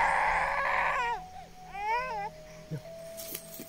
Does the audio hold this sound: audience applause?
no